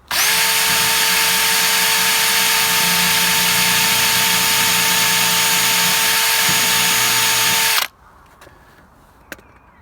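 A power drill whines loudly and steadily while widening a hole in double-skinned plastic on a Land Rover Freelander 2 light guard fitting, running for about eight seconds before stopping abruptly, followed by faint handling clicks.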